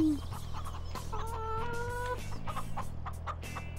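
Chickens clucking on a farm in Farming Simulator 2017, steady close hen clucks and calls over a constant low hum of background noise, with a brief rooster-like crow in the middle.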